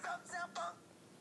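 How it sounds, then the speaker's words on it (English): A mobile phone ringtone playing a Bruno Mars 'Uptown Funk' melody sounds faintly in short bursts, three quick tonal phrases in just over a second, then fades to quiet room tone. "Oh, sorry, that's my phone."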